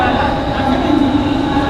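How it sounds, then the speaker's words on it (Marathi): A passenger train on a Mumbai to Goa run pulls into the platform with a steady, loud rumble and droning hum throughout, while voices and station chatter carry on over it. "आता आमची ट्रेन आलेली आहे आणि आम्ही ट्रेनमध्ये चालू आहे"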